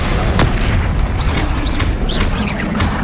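A Bombarda spell explosion in the Hogwarts Legacy video game, a loud sustained booming blast with rumbling low end and crackling debris, followed by whooshing magical effects.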